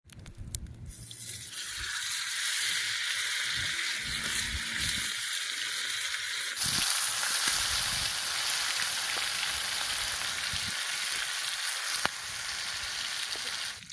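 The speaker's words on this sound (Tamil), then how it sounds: "கருவேப்பிலை ஃப்ளேவரில் வறுக்க போகிறோம் வாங்க வறுக்கலாம்" Fish frying in oil with curry leaves gives off a continuous, fairly loud sizzle that swells partway through and keeps crackling evenly to the end, with no voices.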